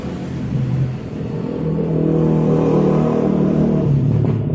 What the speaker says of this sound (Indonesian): Ini ngomong-ngomong banyak kendaraan di depan.